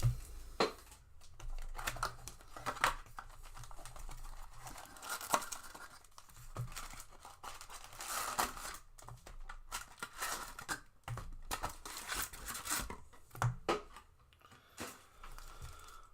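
Foil wrappers of Formula 1 trading card packs being cut and torn open, giving irregular close crinkling, ripping and snipping sounds that keep starting and stopping.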